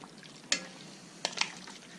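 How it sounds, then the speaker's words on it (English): Chicken being stirred into a vinegar and soy sauce marinade with carrots, onions and potatoes, giving a few soft, close wet squelches and clinks against a quiet background. "So after you get this chicken in here, I'm just going to mix it around"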